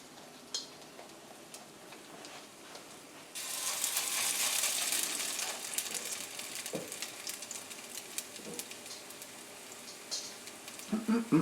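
Potato latkes sizzle in a hot frying pan on the stove, a steady hiss that swells noticeably partway through as more batter goes into the oil, with a few scattered clicks and clatters over it.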